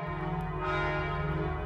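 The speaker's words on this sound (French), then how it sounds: "les cloches du beffroi de l'église Saint-Germain-l'Auxerrois sonnent le signal du massacre de la Saint-Barthélemy" Church belfry bells ring out in a steady, resonant peal that stays loud and continuous through a short stretch, with a rich overtone hum and no voices.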